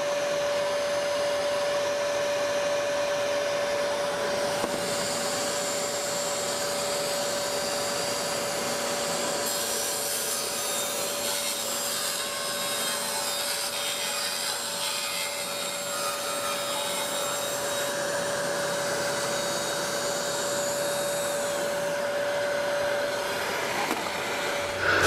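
A table saw rips a wooden panel lengthwise with a steady, unbroken whine and a dense rushing cut that holds loud and close for the whole stretch, with no talking.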